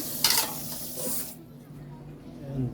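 Water is poured into a pot of pakbet vegetable stew, a short splashing pour that stops after about a second, leaving a quiet simmering background.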